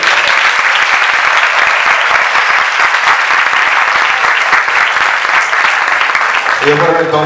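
Audience applause at a children's modeling casting event, dense and loud, sustained steadily for the whole stretch with no pause; a brief tonal sound enters near the end.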